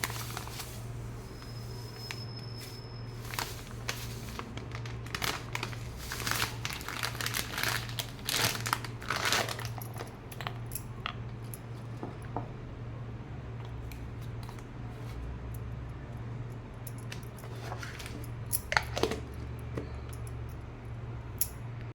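A packet of salt crinkles and rustles close by as the salt is poured into a bottle, with bursts of crisp plastic crackling in the first half, then quieter scattered rustles and a brief louder crinkle near the end.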